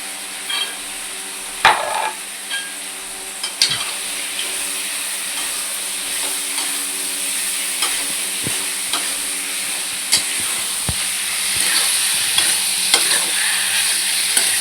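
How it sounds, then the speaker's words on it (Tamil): Gooseberries frying in oil in a pan are stirred with a utensil, giving loud, close scraping and clanking knocks over a continuous sizzle and hiss. "இது நல்லா எண்ணெயிலே வணக்கிக்கலாம். அதை போட்டு நல்லா கிளறிக்கலாம்."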